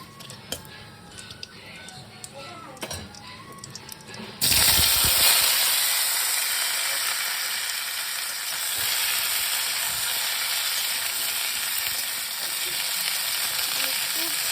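Spices and bay leaves hit hot oil for shukto, bursting into a loud, close sizzle midway that settles into a sustained hiss and crackle, after quieter kitchen clatter beforehand.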